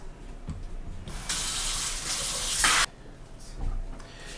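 Mushrooms halved and rinsed under a running kitchen tap: a steady broadband rush of water flows for about a second and a half and then stops abruptly, with faint handling clatter before and after.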